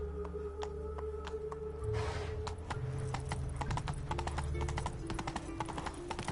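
Horse hooves clip-clop at a steady galloping rhythm in the video game The Witcher 3 on PS5, running continuously under a backdrop of game music and ambience, fairly close and moderately loud.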